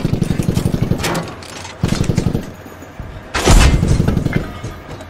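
Tank cannon fire in the military shooter Squad, with three loud, booming blasts spaced about a second and a half apart, each followed by a rumbling tail, the last one heaviest.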